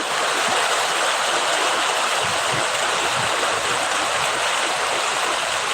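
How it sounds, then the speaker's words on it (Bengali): Heavy rainwater pattering and dripping steadily from tree leaves in a downpour in Pahang, Malaysia, a dense continuous wash of drops with no talk. "গাছের পাতার মাঝে পানি আটকে রয়েছে সেই আটকা পানি টুপটুপ করে পড়তেছে"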